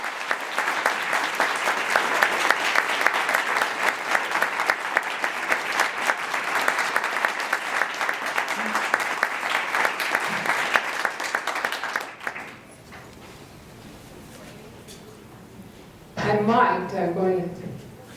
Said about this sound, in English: Could you join me in giving a rousing, warm round of applause to Stacy Beckman?